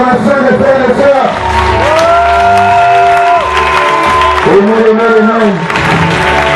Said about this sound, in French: sous l'acclamation des frères et sœurs